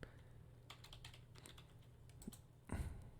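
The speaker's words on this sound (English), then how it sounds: "Yes, I can hear your keyboard." Keys on a computer keyboard clatter in quick, uneven bursts of typing at close range, with a louder thump near the end and no voices.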